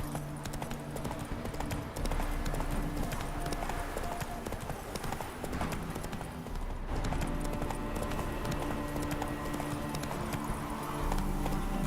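Horse hooves galloping steadily in The Witcher 3, a continuous rapid clip-clop rhythm that stays loud and close throughout, with a brief background voice.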